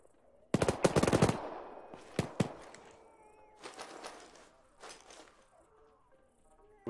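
Gunfire in the video game ArmA 3: a loud close burst of automatic fire, then scattered shorter bursts and single shots, some more distant, with quiet gaps between.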